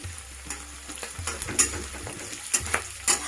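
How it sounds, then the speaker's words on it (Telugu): Unsoaked moong dal fries in a hot pan, a bright sizzle broken by several quick scrapes and clinks of a spoon stirring, close and fairly loud. "ఇప్పుడు మంచిగా వేగాలి మొత్తం."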